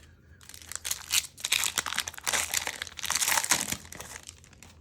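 A Magic: The Gathering Dominaria booster pack wrapper is torn open up close, giving bursts of crisp foil crinkling and tearing with no talking.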